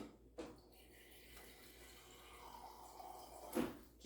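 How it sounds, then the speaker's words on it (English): A small amount of tap water runs into a glass baking dish holding cabbage for roasting, a faint trickle and splash with brief louder bursts near the end. "I'm going to get just a little bit of water here"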